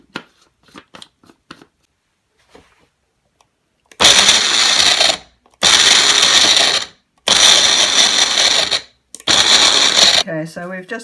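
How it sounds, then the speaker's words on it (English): A small Magic Bullet food processor crushes chili, ginger and garlic in four loud, steady bursts of whirring and grinding, separated by brief pauses, with faint handling sounds before the first burst. "I'm using a little food processor, a magic bullet, to do this, to just crush them up."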